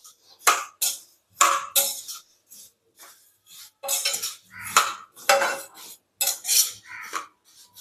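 Vermicelli for samiya kesari is stirred and fried in a pan, a metal spoon scraping and clinking against the pan in quick repeated bursts, close and loud with short pauses between strokes.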